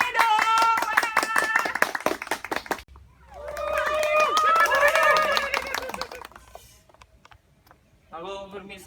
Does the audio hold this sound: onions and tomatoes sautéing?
no